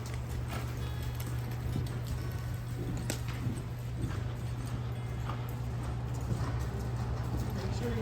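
Horse hooves loping in a circle in an arena during colt starting, a steady rhythmic clip-clop of close footfalls over a constant low hum, with faint voices in the background.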